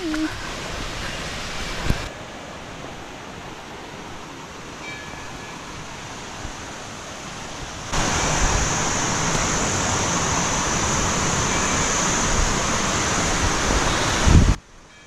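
Waterfall beside the trail to Tiger's Nest monastery in Paro, Bhutan, heard as a steady broadband rushing wash that grows noticeably louder and brighter partway through, with no talking.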